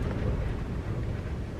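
Strong, gusty wind on a cloudy day in Montenegro buffets the microphone outdoors, a steady, loud low roar with no clear talk over it.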